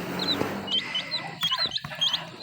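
Chickens and young chicks cluck and peep nearby in a farm setting, with repeated short high chirps scattered through the clip over a low background murmur.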